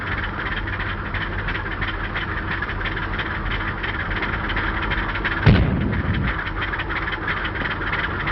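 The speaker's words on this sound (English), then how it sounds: "What do you mean, firing on my ship?" A deck gun fires aboard a ship in a 1931 film, a single loud boom rising out of a steady engine rumble about two-thirds of the way in, with no voices.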